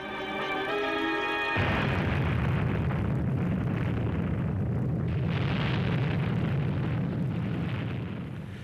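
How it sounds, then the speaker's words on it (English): A 300-foot missile explodes in the atmosphere. A sudden deep boom gives way to a sustained, roaring rumble that swells and lingers, loud and close, with no speech. "A 300-foot missile about to explode in the atmosphere."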